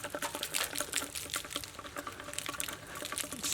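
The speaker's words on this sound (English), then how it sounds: "It's trash coming out of the radiator hose." Rusty water mixed with debris draining from a radiator hose on an old seized Ford Maverick, a faint trickling and splashing pour with scattered drips, steady and unaccompanied.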